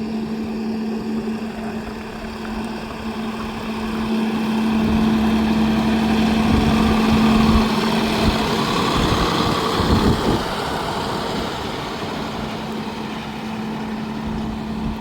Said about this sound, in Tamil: அந்த ரேடியேட்டர் ஃபேன் சவுண்டு பார்த்தீங்கன்னா இன்ஜின் சவுண்டு வர அதிகமாக வருதுங்க